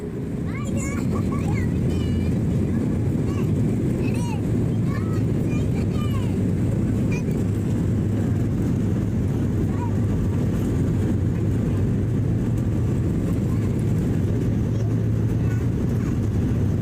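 Akasa Airlines passenger jet cabin before takeoff: a steady low engine and air hum fills the cabin, with faint voices and a child's chatter audible over it early on.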